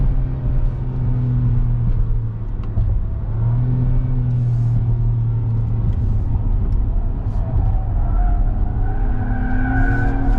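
A 2022 Acura MDX accelerates, heard as a loud, continuous, deep engine drone with a rumbling low end and tones that climb in pitch near the end.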